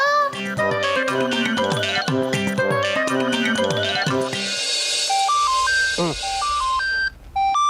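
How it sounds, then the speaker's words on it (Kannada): A telephone number is dialled, with a rapid run of short keypad tones followed by a hiss and a repeating two-note ringing tone on the line. "ಫೋನ್ ಮಾಡ್ತಾ ಇದ್ದೆ"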